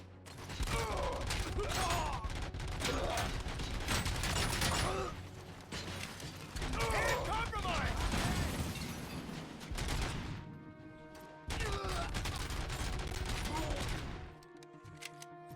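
Rapid automatic gunfire in the video game RoboCop: Rogue City bursts in long sustained volleys with mechanical clatter, pausing briefly between strings of shots before the firing cuts off near the end.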